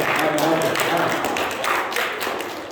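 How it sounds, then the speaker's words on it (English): A church audience claps in a steady, dense patter of hands, with a voice talking over the applause throughout. "Okay, why are we clapping now?"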